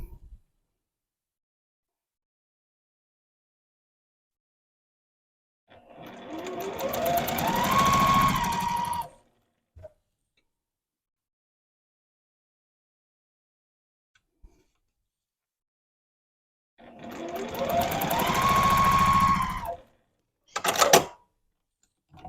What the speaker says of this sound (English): I'm just going to continue sewing only with a few stitches in between each square